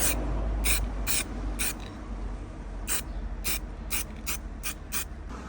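Bolts being tightened on a boat windshield with a ratcheting tool, giving short bursts of quick clicks in irregular groups over a low background hum, close by.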